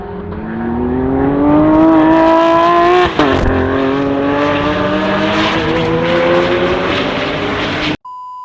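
A remote-controlled Lamborghini SVJ toy car runs during testing, its small electric motor giving a loud, high whining drone that rises steadily in pitch with one brief dip, then cuts off abruptly near the end.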